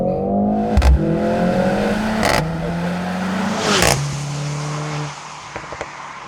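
A 2025 Mercedes-AMG GLC 63 S E Performance SUV launches hard in race mode. The engine note climbs sharply and breaks at three quick upshifts, then the powertrain eases off near the end.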